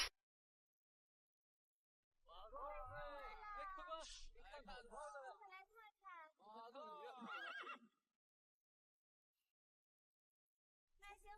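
A horse neighs and whinnies in several long, rising and falling bursts across roughly six seconds, loud and close, with a short fresh burst at the very end of an otherwise quiet stretch.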